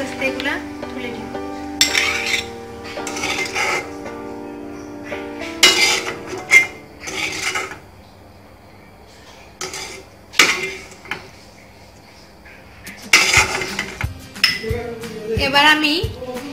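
A spoon scrapes and clinks against a pan while chhana and coconut filling is lifted out with the stove switched off, in uneven bursts of close metallic knocks and scrapes, with someone talking between them.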